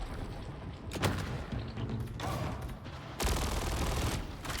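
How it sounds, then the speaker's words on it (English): Video game gunfire strikes a wall in bursts, with a brief volley near the start, another around the middle and a longer, louder sustained stretch of shots toward the end, all heard over constant background game noise. "I try and shoot this wall to help gain vision on them."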